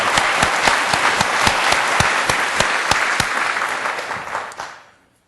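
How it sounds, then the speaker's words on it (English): A keynote presentation audience claps enthusiastically in steady applause for several seconds, then the clapping quickly fades to silence. "please give me a round of applause."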